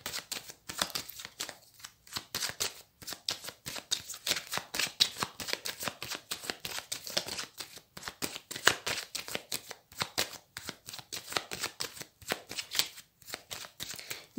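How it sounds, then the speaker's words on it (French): Tarot cards are shuffled and cut by hand, producing a steady, close run of rapid papery riffles and slaps that continue throughout without talk. "On va faire une coupe avec le tarot pour vous les Sagittaires."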